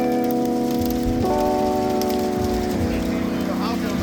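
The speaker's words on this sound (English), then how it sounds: "It's hailing right now." Hail pelts down in a neighborhood during a trunk-or-treat gathering, a dense continuous patter under sustained tonal background sound, with voices nearby.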